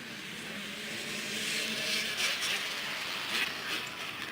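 Open-class two-stroke motorcycles launching from a starting gate at a race: a broad, distant roar of many engines swelling steadily, with no speech over it.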